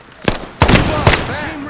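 Three loud, close gunshots ring out in a game firefight, spaced unevenly, with a voice briefly audible after them.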